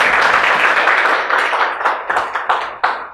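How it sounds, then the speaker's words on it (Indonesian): A classroom of students claps for a classmate, a burst of clapping that thins out into a few scattered, sharper claps toward the end. "tepuk tangan untuk temannya dulu"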